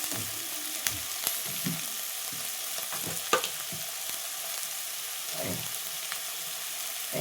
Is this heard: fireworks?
no